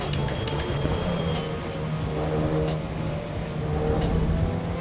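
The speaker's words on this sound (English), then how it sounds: "The backfires on the shifts, man, this thing looks crazy and it sounds good." Dallara Stradale sports car engine in Assetto Corsa EVO, revving steadily and loud with sharp backfire pops on gear shifts, a continuous droning tone throughout with no talk.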